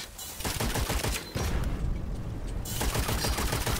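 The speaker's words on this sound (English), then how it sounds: "They just shoot one, the bullets will ricochet to the others." Gunfire from a ricochet gun in the Witchfire video game, a dense rapid string of loud shots and impacts that briefly thins out before the firing picks back up, no voices.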